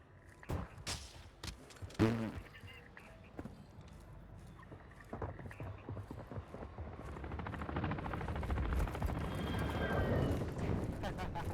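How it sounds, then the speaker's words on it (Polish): An enemy attack helicopter in Call of Duty Modern Warfare 2, its rotor thrum building gradually into a loud, dense drone over the second half, mixed with clattering game effects and faint voices. "waszą stronę leci śmigłowiec szturmowy wroga."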